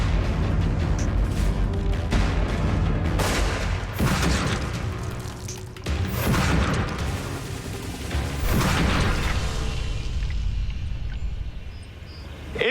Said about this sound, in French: je vais tirer des 2 canons en même temps.